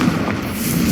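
A Confringo fire spell blast in Hogwarts Legacy, a single loud, booming burst with a fiery rumble filling the whole moment, close and dense.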